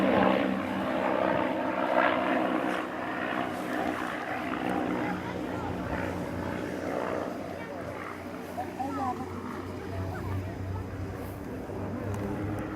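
A de Havilland Mosquito propeller aircraft, the wooden wartime plane, drones past at an air show meeting in Pontoise, its engines a loud, sustained rumbling roar that swells and slowly fades, with someone commentating in French over it.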